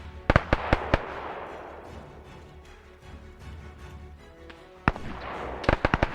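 Mortar shells burst in a WW2 video game battle between Paramarines and Japanese forces, with clusters of sharp, cracking blasts at the start and again near the end, separated by a lull of rumbling background noise.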